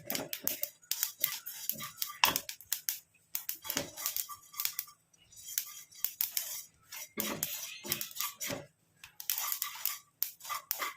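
Ingredients being fried and stirred in a pan give off scattered clinks and scrapes of utensil against metal, coming in irregular bursts with short quiet gaps between them.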